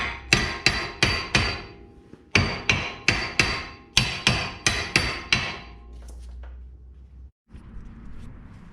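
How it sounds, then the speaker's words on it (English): Heavy hammer blows on a cast iron steering knuckle of a turbo CB7 Honda Accord, struck to free the ball joint: two close bursts of about five sharp, ringing metallic hits each, loud and near, then quieter rumble. "hit it with a good hammer right here on the cast iron"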